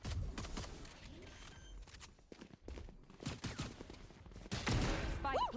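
Valorant gunfire during a competitive match: scattered sharp shots and short bursts mixed with footsteps and game effects, with commentary voices talking over them throughout.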